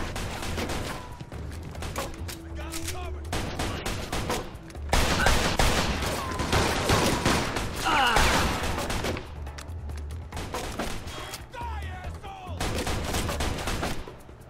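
Gunfights in the Mafia II video game: dense bursts of rapid gunfire crackle through the scene, automatic volleys overlapping with single loud shots, sustained and close, with a few quieter gaps between exchanges.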